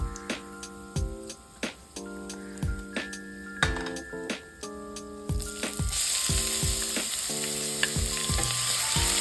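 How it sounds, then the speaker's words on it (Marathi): Onion fries in a pan with bay leaves and coarsely crushed whole spices for Malvani-style prawn rice, a continuous close sizzle broken by repeated spoon taps and stirring clinks, the frying growing louder toward the end. "कांदा लालसर भाजून घ्यायचा"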